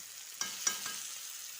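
Pumpkin pieces fry in oil over a medium flame, a steady soft sizzle with a few brief scraping stirs near the start, close and fairly quiet with no talking.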